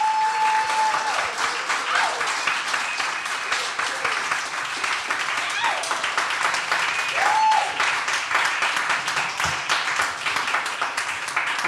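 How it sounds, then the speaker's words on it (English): Sustained applause from an audience at a Freedom Summer 60th anniversary event in Sunflower, honoring a panel of speakers; dense, steady clapping fills the room without letup, loud and close throughout. "Let us give our panelists another round of applause"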